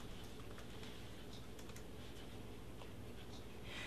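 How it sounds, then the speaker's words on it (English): A search being typed on a computer keyboard, a rapid run of quiet key clicks over a low steady hum, faint and continuous throughout. "I'm going to type in Jordan Grape."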